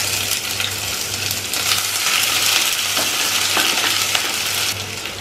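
Mustard seeds, curry leaves and onion frying in a home kitchen pan, a steady bright sizzle with scattered pops and crackles, a low hum running beneath it.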